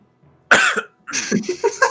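A person coughs after inhaling liquid during a tabletop game session, a short burst of harsh coughs followed by a longer, broken run of wet hacking, close and loud.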